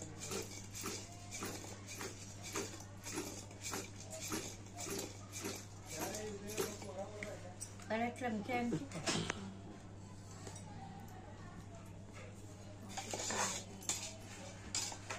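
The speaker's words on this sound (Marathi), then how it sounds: "असं चमच्यानी चांगल्या प्रकारे मिक्स करायचं आहे त्याला मित्रांनो." A spoon stirs powdered fenugreek into homemade lemon pickle, giving light repeated clinks and scrapes against the container while a person talks over it throughout.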